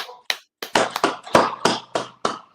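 A small audience at the end of a class claps in a brief, loose burst of about ten sharp, separate hand claps, close and clear with short gaps between them.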